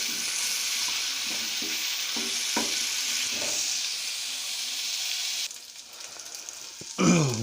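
Beef steak bites with green chillies sizzle steadily in a pan, a loud continuous frying hiss with faint stirring taps, dropping briefly near the end before a sharp burst of sizzle returns.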